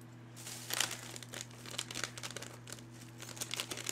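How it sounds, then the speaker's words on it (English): Scissors snip and crinkle through a Sour Jacks candy wrapper at close range, a few sharp crackling cuts over a steady low hum, with no talking. "Get a pair of scissors here."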